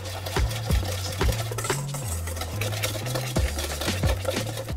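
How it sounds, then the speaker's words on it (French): Flour and baking powder being mixed in a bowl for a lemon fondant cake, with steady rhythmic scraping strokes repeating close up and no talk. "Je mélange la farine avec la levure."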